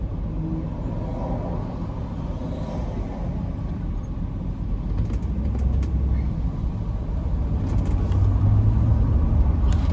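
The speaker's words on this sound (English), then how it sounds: "Back in this Atlanta traffic." Steady Atlanta road traffic with cars driving, a continuous low rumble of engines and tires that builds slightly louder toward the end, with no talking.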